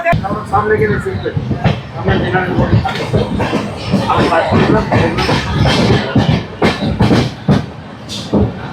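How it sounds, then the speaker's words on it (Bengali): A train pulls out of Bandel station, with a dense, continuous rumble and clatter of moving carriages and scattered sharper knocks throughout, heard close from inside and fairly loud, with people's voices mixed in. "ব্যান্ডেল স্টেশন থেকে আমাদের ট্রেন ছেড়ে দিয়েছে।"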